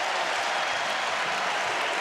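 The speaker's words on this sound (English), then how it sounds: "Not often do you see a crowd react that vociferously for a 3-point attempt to put your team up by 28 points." A loud, sustained roar of a basketball arena crowd cheering a 3-point attempt at a Big 12 men's game between TCU and Iowa State, a dense wall of applause and shouting that holds steady throughout without a break.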